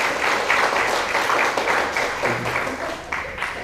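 An audience at a church prayer meeting claps in a sustained burst of applause that tapers slightly toward the end, with a voice faintly audible underneath.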